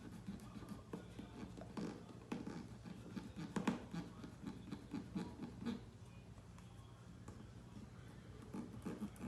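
A piece of plain paper is scratched over the holes of a fuel system gasket on a Kawasaki KX250F to mark them: quiet, close rubbing and rasping strokes in irregular bursts.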